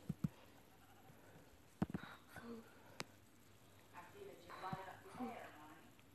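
Sheep in Minecraft Pocket Edition give a few faint bleats beneath a player's chatter, with scattered soft clicks and taps from the game.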